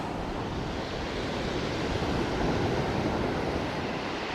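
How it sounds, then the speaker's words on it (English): Ocean waves break on a beach in a steady, broad roar of surf, swelling slightly midway, loud and continuous with no voices. "Oh, there's some majestic waves going on."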